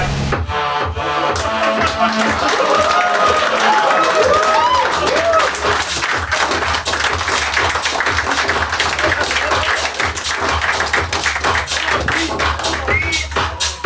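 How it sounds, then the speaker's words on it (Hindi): An audience at a musical stand-up comedy show applauds loudly and steadily, a dense wash of clapping mixed with crowd noise and music, with a voice urging them on at the start. "खड़े होकर के तालियां बजाइए, जोर से तालियां बजाइए"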